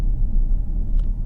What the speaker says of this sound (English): I'm figuring out how this car likes to be launched